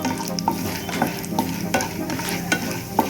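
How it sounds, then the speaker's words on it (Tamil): Chana dal and urad dal fry in hot oil with a continuous sizzle, and a utensil stirs them in a pan with soft scraping clicks throughout. "இப்போ எண்ணெய் சூடானதும் நம்ம எடுத்து வச்சிருக்க சனா தால், ஊரட் தால் ரெண்டுத்தையும் போட்டு கொஞ்சம் ஃப்ரை பண்ணிக்கலாம்"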